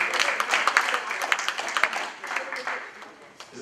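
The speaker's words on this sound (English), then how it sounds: "let's clap for her one more time" Guests at a bachelor party get-together clap in a steady patter of hands, fairly close and moderately loud, with voices mixed in beneath.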